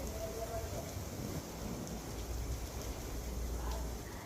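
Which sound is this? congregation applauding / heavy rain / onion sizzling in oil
heavy rain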